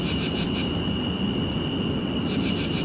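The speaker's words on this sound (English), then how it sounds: "As you can hear, the cicada's noise is in full bloom." Cicadas buzzing outdoors, a constant high, dense drone with pulsing upper tones that swell and fade in rhythm, steady and loud throughout with no talk.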